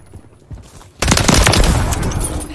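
Sustained automatic gunfire from Call of Duty: Modern Warfare 3 breaks out after a second of quieter combat noise, with rapid overlapping shots that stay loud and dense to the end.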